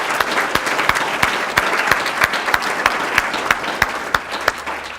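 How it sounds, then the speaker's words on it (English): An audience applauds at a county gathering honouring Commander Bobby Boss on his retirement after 36 years of service. The clapping is steady and dense for the whole stretch, with sharper individual claps standing out near the front. "Let us give him a round of applause for the many years of service he's given our county."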